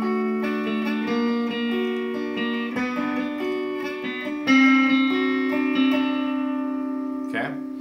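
Acoustic-style guitar strumming the chords of a song, bright ringing chords changing in a steady rhythm, played alone and close up with a louder strum midway.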